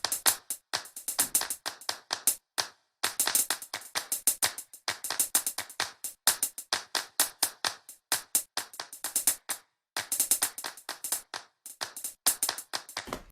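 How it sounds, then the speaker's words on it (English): A looped clap sample in Ableton Live repeats in a quick, steady rhythm of sharp, dry hand claps, with brief gaps between phrases and no voices. "So maybe together with the claps"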